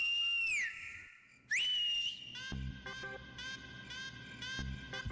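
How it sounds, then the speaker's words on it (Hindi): Someone whistles a shrill melody: long sliding notes first, then a run of short repeated phrases, fairly clear and close with no talk. "मुझे ये सीटीबाजी बिल्कुल पसंद नहीं"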